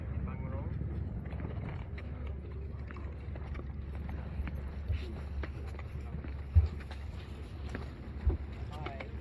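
A boat's low, steady engine rumble drones throughout, with wind buffeting the microphone and faint voices underneath.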